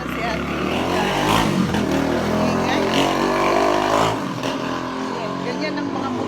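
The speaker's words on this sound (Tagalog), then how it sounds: "Ganyan ang kaingay ang mga motor dito." Noisy motorcycles passing by on a provincial street, their engines revving and droning loudly near and then fading away, with a person talking over them.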